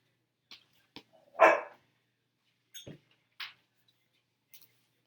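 A few short, sharp dog barks spaced irregularly apart, one louder and fuller than the rest, with silence between them.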